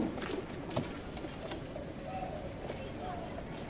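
A male racing pigeon is let go from the hand at a loft, with soft cooing and a few quick wing-flap bursts over a steady outdoor background.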